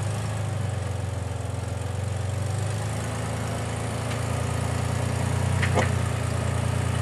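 A Rock Ranger SAS off-road vehicle sits on a rock pile at Chinaman Gulch with its engine running in first gear, a steady low rumbling drone with slight variation and no talk.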